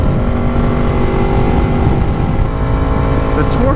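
A 1000cc super naked motorcycle accelerates hard, its engine giving a loud, steady, rising roar close by throughout.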